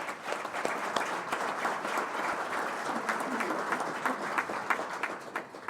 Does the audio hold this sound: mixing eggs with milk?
no